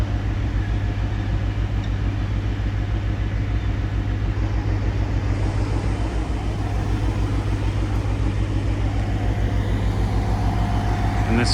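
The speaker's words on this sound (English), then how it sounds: "This truck pulled up in front of a bagel shop." A truck idles at the curb in front of a bagel shop in downtown Portland, Maine, its diesel engine a loud, steady low throb close by, with faint talk over it.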